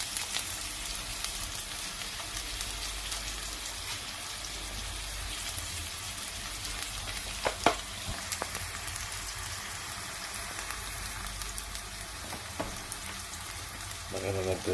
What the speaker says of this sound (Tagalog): Naghahalo na natin yan.